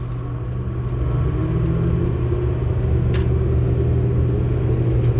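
A car pulls away in first gear during a driving lesson, its engine a steady close rumble inside the cabin that stays even throughout, with a faint brief click partway through and no talk.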